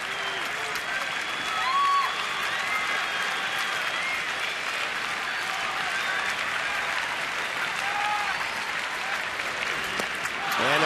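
A crowd of nearly 26,000 at a Marlins–Nationals baseball game applauds in a sustained ovation for a catcher after a strikeout, broad steady clapping and cheering that fills the whole stretch, with faint announcer talk beneath.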